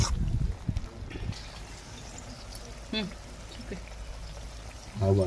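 Water is poured into an eggplant curry cooking in a pan, a brief liquid splash and trickle near the start followed by quieter simmering sounds, with someone talking over it.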